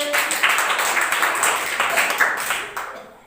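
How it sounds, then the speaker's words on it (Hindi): A primary school class clapping during a fourth-grade maths lesson on litres and millilitres, a close, busy patter of small hands that stays steady and then tapers off toward the end. "बैठ जाइए, ताली बजा दीजिए"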